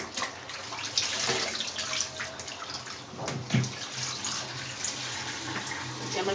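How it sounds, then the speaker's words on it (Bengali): Beef tripe is rinsed under running tap water, a steady close splashing flow with irregular sloshes and slaps as the tripe is handled. "আমি আরো 4-5 বার এভাবে খুলে ধুয়ে নিব।"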